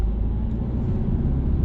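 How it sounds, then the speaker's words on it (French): A car engine accelerating while shifting into third gear during a driving lesson, a steady low rumbling drone heard from inside the cabin without any talk. "Allez, on accélère et on met la 3."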